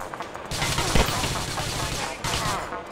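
A gunshot headshot in GTA IV: The Ballad of Gay Tony, with loud close gunfire in a rapid burst followed by a second volley, sharp cracks over a busy in-game background.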